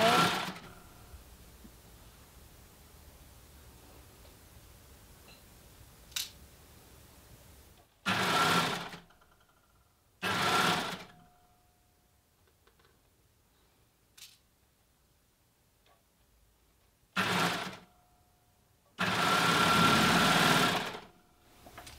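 An overlocker sews a jersey seam while feeding a ribbon through, running in four short separate bursts of about a second each plus a longer final run, with quiet pauses and faint handling noises between them.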